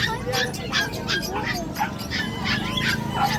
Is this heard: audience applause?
no